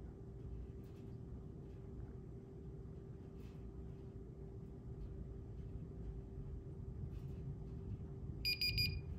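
A freezer's door-open alarm sounds a short burst of high electronic beeps near the end, over a low steady motor hum in a quiet room.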